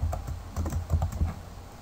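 Typing on a computer keyboard: quick, irregular bursts of close key clicks and thumps with short pauses between them, with no voices.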